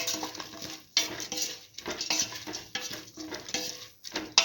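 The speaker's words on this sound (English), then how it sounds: "keep on sauteing." Sweet split mung beans being stirred and sautéed in a pan, a utensil scraping and clinking against the metal in repeated strokes over a steady soft sizzle, close and clear with no talking.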